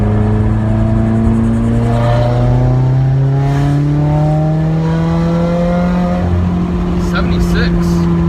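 Straight-piped 2015 Subaru WRX exhaust droning loudly from inside the car, a deep steady rumble that climbs slowly in pitch as it accelerates.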